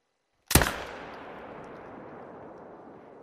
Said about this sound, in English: we're about to take a shot